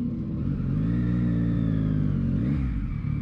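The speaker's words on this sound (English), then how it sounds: "It's a truck. Come on." Truck driving and accelerating on a road, a loud, close, steady engine drone with rising revs and a slight pitch shift toward the end, no voices.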